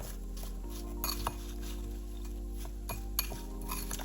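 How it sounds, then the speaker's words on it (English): A spoon stirs sliced apples in a bowl for muffins. Soft scraping and a few sharp clinks against the bowl sit over a steady low background hum, quiet and close. "I'm just going to mix to coat the apples."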